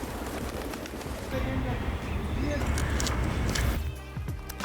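Birds call in Almaty, with pigeon-like coos and chirps rising over a busy outdoor city background and what sounds like a murmur of distant voices.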